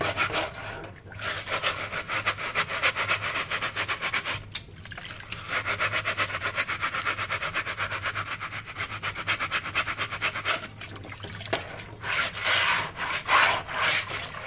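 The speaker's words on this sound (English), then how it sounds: "So again, kind of scrub around on that." A sponge scrubs a greasy vent hood screen in continuous close rubbing strokes, with a few brief pauses and steady texture throughout.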